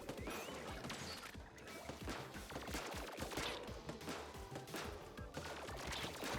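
Rapid weapon fire from a sniper-type weapon in the video game Splatoon 3, a dense stream of sharp, crackling shots and splats running steadily throughout under faint game effects.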